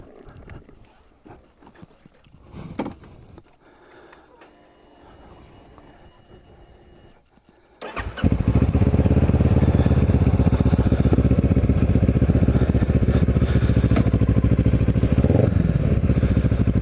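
A Ninja motorcycle engine fires up after a quiet stretch of faint handling noises, then runs on as a loud, close, steady rumbling idle.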